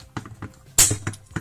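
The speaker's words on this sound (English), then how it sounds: "That is the sound of the ratchet." A Transformers Bumblebee toy's ratchet joint at the armpit clicks in a quick series of short plastic snaps, one sharper louder click in the middle, close and alone.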